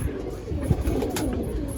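Rampuri old-bloodline flying pigeon gives a brief, low, soft coo over faint background noise.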